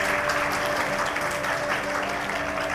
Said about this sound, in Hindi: वर्षा के लिए जोरदार तालियां।